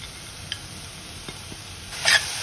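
Fresh coconut karanji filling with poppy seeds, ghee and dry fruits being stirred in a pan: faint scraping and a few light taps, then a brief louder scrape near the end, heard up close without talk.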